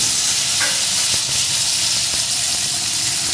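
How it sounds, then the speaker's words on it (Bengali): Cut potato pieces frying in hot oil in a pan, a steady dense sizzle and hiss running throughout, loud and close, with faint stirring clinks and no voices. "এখন এই তেলের ভিতরে টুকরো করে কেটে রাখা আলুটা দিয়ে দেবো"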